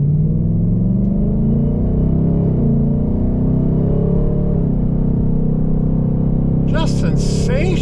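A 2024 Ford Mustang GT drives in sport mode with a steady, deep engine rumble held in gear from inside the cabin, while a person talks over the drone.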